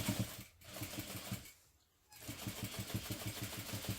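A sewing machine stitches through the fabric of a mini backpack in quick, steady mechanical pulses. It stops briefly twice, then runs again at close range.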